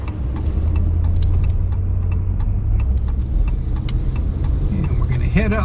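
A car drives slowly through busy town traffic in Bar Harbor, Maine, in winter, with a steady close engine and road rumble throughout and a voice talking briefly near the end.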